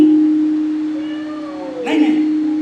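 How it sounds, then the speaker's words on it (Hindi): Cats wail offstage during a stage play in an auditorium, a drawn-out rising and falling cry followed by a brief harsher yowl, all over a steady electronic hum. "बाहर कुत्ता बिल्ली के रोवे की आवाजें आ रही।"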